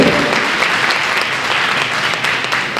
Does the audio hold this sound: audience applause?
yes